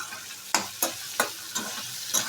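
Slit green chillies go into a pan of frying okra and potato curry with tomato and onion, steady sizzling broken by four or five sharp scraping stirs at a regular pace, close and clear.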